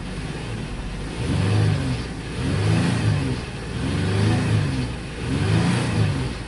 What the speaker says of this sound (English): my first try to get it running, it's running rough